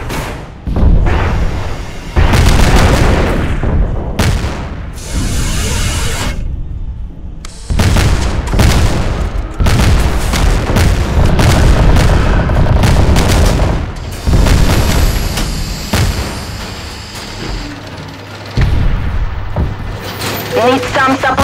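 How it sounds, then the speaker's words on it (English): Explosions and gunfire as a key structure is destroyed in the RTS shooter Nuclear Dawn, with repeated heavy booms and weapon bursts packed close together, loud and sustained, with brief lulls and a game voice announcing events. "The enemy is destroying a key structure."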